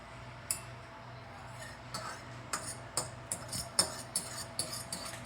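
Eggs whisked in a bowl for scrambled eggs: a run of light clinking taps from utensil against the bowl, irregular at first then quickening, close and fairly quiet over a low background hum.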